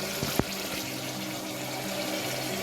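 Water pours steadily into a pot of soaked rice, a close, continuous gushing sound with a brief clink near the start.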